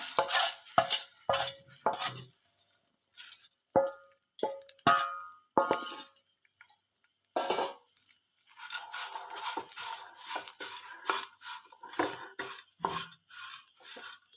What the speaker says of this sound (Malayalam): നമ്മൾ എടുത്ത് മാറ്റി വെച്ചിരുന്ന അവൽ ഇതിലേക്കിട്ട് ഒന്ന് ചെറുതായിട്ടൊന്ന് ചൂടാക്കിയെടുക്കാം.